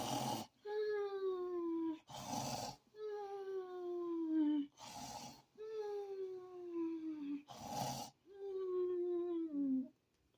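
A man imitates loud snoring with his voice: about four repeated cycles of harsh, rasping breath bursts, each followed by a drawn-out, falling, moaning tone, close and steady.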